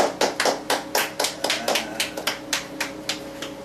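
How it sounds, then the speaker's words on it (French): A studio audience claps for a contestant on a French comedy game show, a steady patter of fairly close hand claps lasting a few seconds with no talking over it. "On l'applaudit."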